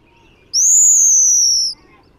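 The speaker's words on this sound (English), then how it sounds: "You hear that screeching call?" A single loud, high, drawn-out screeching bird call lasting about a second, heard clearly against a quiet background.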